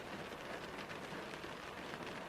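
Steady, dense rain patters down without pause, a continuous hiss of drops hitting a surface.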